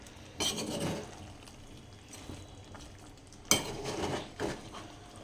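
A spoon stirring chicken fry masala in an open pan, two distinct scraping, clattering stirs separated by a quieter stretch of soft bubbling, close and fairly faint.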